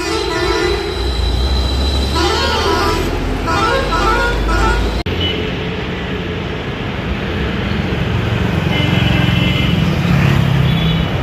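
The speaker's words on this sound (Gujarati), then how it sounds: "ફૂલ ટ્રાફિક છે ભાઈ" Heavy traffic at the busy Rajkot GSRTC bus stand on a Dhanteras morning: loud, continuous bus engines and crowd din, with horn toots and a sudden shift in the noise midway, and voices talking throughout.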